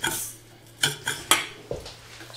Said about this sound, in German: Und erstmal noch weiter rühren.